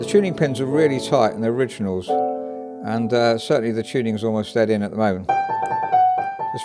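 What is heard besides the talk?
No distinct noise like a dog, phone or traffic.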